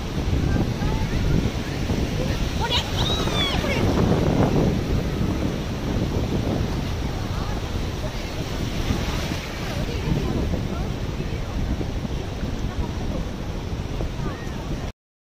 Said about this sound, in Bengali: দেখো সমুদ্রের কত ঢেউ, এখন জোয়ার চলছে।